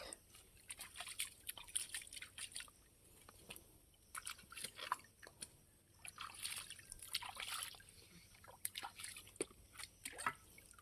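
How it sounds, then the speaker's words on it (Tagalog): A shallow creek, drying out in the hot season, trickles faintly with soft drips and small splashes, quiet and close, with no voices. "Tag-init na yung sapa o patuyo na siya."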